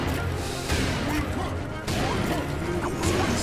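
Crates break with sharp crashing thuds in Serious Sam 2, a few loud smashes landing over a busy, continuous wash of game battle noise and swishing effects.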